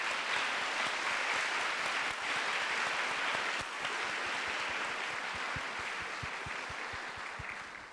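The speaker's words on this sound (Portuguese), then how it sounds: "eu queria pedir uma salva de palmas para a Sueli Machado" Audience at a 2019 talk event applauding for Sueli Machado, a dense sustained wash of many hands clapping that thins toward the end, with individual claps standing out.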